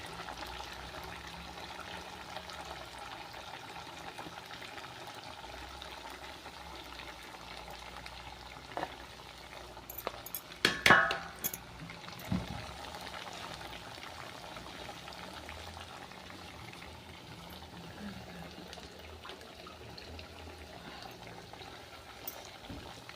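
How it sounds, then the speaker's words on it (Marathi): Sabudana vadas frying in hot oil in a pan, a steady soft sizzle and bubbling throughout with a brief clatter of utensils midway. "चार एकदम भाजून घ्यायचं"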